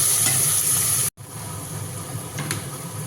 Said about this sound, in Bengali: পেঁয়াজ কুচোটা দিয়ে একটু নাড়াচাড়া করে